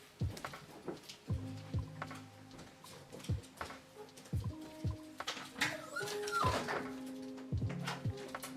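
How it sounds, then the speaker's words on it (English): A dog whines and whimpers to be let outside, with repeated high, tonal cries rising and falling in short bursts throughout, fairly close in an indoor room. "all we're gonna hear is dog whining for like the next 30 minutes"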